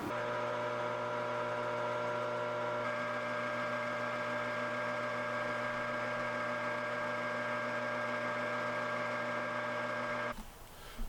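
A metal lathe cuts the muzzle-brake tenon on a Savage rifle barrel in 6.5 Creedmoor, giving a steady, loud machine whine with layered tonal hum that holds evenly for about ten seconds, then shifts abruptly near the end.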